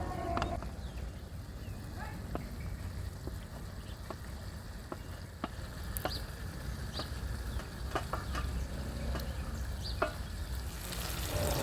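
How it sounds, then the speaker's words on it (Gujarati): A spoon scrapes and stirs fried onion and potato with spices in a pan, with scattered clinks, over a steady low sizzle that runs throughout. "શાકભાજીને મસાલા સાથે બરાબર આપણે મિક્સ કરી લઈએ।"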